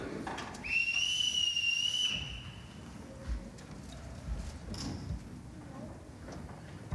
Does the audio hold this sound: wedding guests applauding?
no